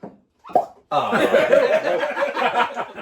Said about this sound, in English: pop the cork on this. Always like a good cork pop